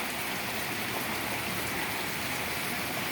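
A sudden evening rainstorm pours down in a dense, unbroken hiss of falling drops, steady and fairly close, with no voices over it.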